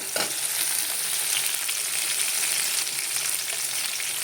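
Onion and tomato frying in a pan for a dhaba-style peas curry, giving a dense, even crackling sizzle that holds steady and close throughout, with no voices.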